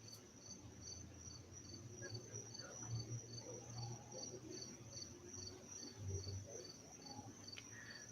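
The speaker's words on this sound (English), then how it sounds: "Crickets and birds is all I hear." Steady crickets chirp continuously outdoors in a rural setting, a high pulsing trill that runs through the whole stretch, with a low hum and some faint distant sounds beneath it.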